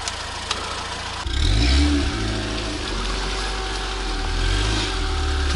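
A Soviet car's engine labors and revs as it crawls over a rough forest dirt road, the low rumble swelling and easing with bumps and a thump partway through.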